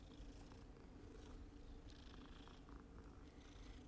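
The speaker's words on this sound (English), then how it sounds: "Still purring." Soft, steady purring from a cat, a low continuous rumble close by with faint background rustles and no talking.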